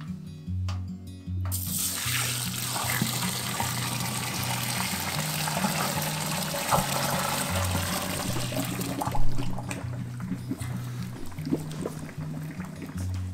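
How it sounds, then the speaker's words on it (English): Hot strike water pours steadily into a mash of Pilsner grain with rice hulls for homebrewed beer, a continuous close splashing rush after a brief quieter start, with faint background hum. "Strike water is ready, so let's pour it in."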